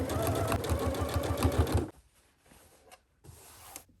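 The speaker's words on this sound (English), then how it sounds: "I highly recommend taking your time with this step at the sewing machine" A sewing machine stitches through a denim skirt with a long stitch length, running in a steady, rapid mechanical whir for about two seconds, then stopping; a fainter burst of handling or stitching follows after a pause.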